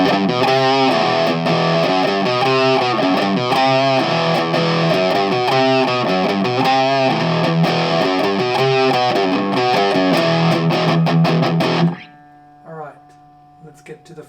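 Loud, dense electric guitar chords through a Boss DS-2 Turbo Distortion pedal with the knob at 3 o'clock, strummed steadily for about twelve seconds, then cut off, leaving a faint hum and a few quiet plucks.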